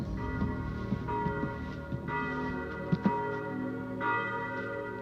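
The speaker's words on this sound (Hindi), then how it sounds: "गिरजाघर की घंटियां सुनाई दे रही हैं।" Church bells ring out in a sustained, resonant peal with repeated strikes layered over a steady low drone.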